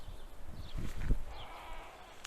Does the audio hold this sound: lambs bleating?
yes